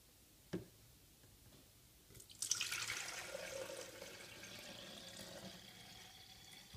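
Liquid pours steadily into a jug, starting after a brief clink and continuing as a bright, splashing trickle for several seconds.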